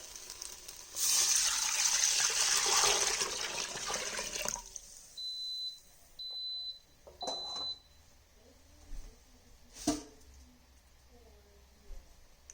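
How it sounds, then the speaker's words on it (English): Broth pours steadily into an Instant Pot for a few seconds with a gushing wash, then stops, followed by a few light clinks and knocks. "So let's go ahead and put the broth in there."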